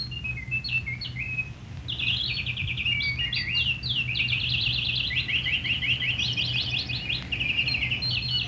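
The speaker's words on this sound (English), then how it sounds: "the birds singing in the meadow" Birds sing in a mountain meadow high in the Rockies, rapid trilled phrases repeating one after another at moderate distance over a steady low hum.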